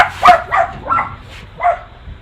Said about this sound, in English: We're in my backyard and my dogs are protecting us.